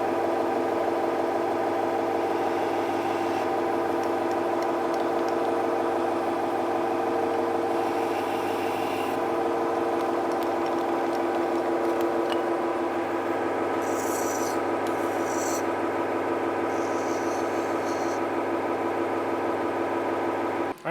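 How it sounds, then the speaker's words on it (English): A manual lathe cuts chamfers on a solid steel roller for a steel mill, giving a steady mechanical hum with a faint scraping edge that holds evenly throughout, with no voices. "Now we'll just put a chamfer here and a chamfer here"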